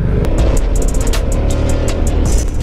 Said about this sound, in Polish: Auto jedzie.